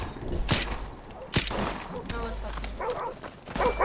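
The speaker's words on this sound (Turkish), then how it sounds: "Köpek" A dog barking in Call of Duty: Modern Warfare Remastered, a few sharp barks and yips spaced apart, mixed with game sounds and a person talking over them.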